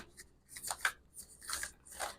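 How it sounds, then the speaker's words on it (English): Tarot cards shuffled by hand at close range, quiet and choppy, with irregular bursts of papery riffling and rubbing separated by short pauses. "You see how the shuffling is kind of choppy for y'all already?"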